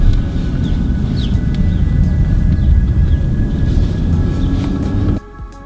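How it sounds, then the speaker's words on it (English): The inline-six petrol engine of a BMW X5 xDrive45e hybrid SUV gives a deep, steady rumble that builds and holds for about five seconds, then cuts off abruptly into near quiet. "That typical sound of the BMW 6-in-line is just"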